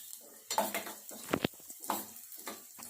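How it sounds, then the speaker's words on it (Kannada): Onion and green chili fry in hot oil in a home kitchen, faint sizzling broken by several clattering stirs and utensil knocks against the pan in short bursts. "ಕಾಯ್ದಿರೋ ಎಣ್ಣೆಗೆ ನಾವು ಹಚ್ಚಿಟ್ಕೊಂಡಿರೋಂಥ ಒಂದು ಈರುಳ್ಳಿ ಮತ್ತು ಹಸಿಮೆಣ್ಸಿನ್ಕಾಯಿನ ಹಾಕ್ಕೊಂಡು ಚೆನ್ನಾಗಿ ಫ್ರೈ ಮಾಡ್ಕೊಬೇಕು"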